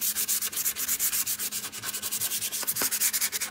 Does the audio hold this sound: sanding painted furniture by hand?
yes